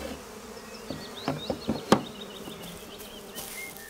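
Honeybees buzz around a hive in the woods, a faint steady hum with a few soft knocks and taps nearby, no voices.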